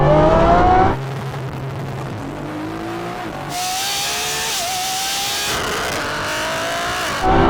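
Loud racing car engines, a modified BMW M140i and a Lamborghini in a drag race, roar and rev hard, pitch climbing as they accelerate, with a burst of higher-pitched engine noise midway and another surge near the end.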